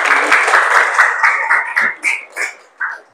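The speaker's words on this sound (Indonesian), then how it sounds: "Tepuk tangan dua kali." Students clap in a classroom icebreaker game, a burst of group applause followed by a series of separate, rhythmic sharp claps in short groups, close and fairly loud.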